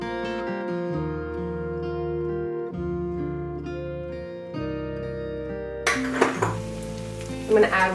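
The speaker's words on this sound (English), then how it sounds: "you want to keep mashing that meat until it's fully cooked" Ground taco meat sizzles and is mashed in a hot cast iron pan, heard mostly under music, with a brief burst of crackling sizzle and scraping near the end.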